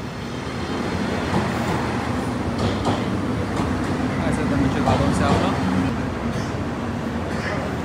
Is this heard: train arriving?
yes